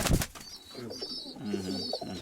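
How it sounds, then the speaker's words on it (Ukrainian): Breeding pigeons coo softly and repeatedly in low, throaty tones, with a brief flutter or bump at the start and faint background chatter. "то Білохвостий, да, голубка?"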